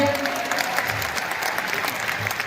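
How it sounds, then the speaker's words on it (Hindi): Business-event audience applauding the managing director, with dense, steady clapping from a crowd in a hall, loud and continuous throughout. "इसके बाद हमारे एमडी सर के लिए भी जोरदार तालियां होनी चाहिए"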